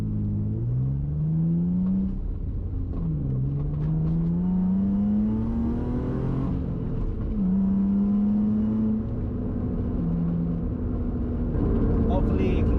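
Inside a manual Infiniti G35 with a gutted trunk area, a loud engine drones and rises through several gear changes, pitch climbing and dropping between shifts, while someone talks over it.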